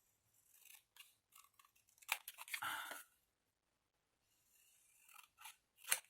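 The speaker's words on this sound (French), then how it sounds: "Ciseaux." Close scissors snipping through paper in short bursts, a longer crunchy cut in the middle, then a few more crisp snips after a pause.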